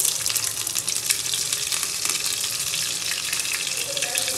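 Garlic and cumin seeds fry in hot oil in a pan, giving a continuous close, bright sizzle with small crackles and spits throughout.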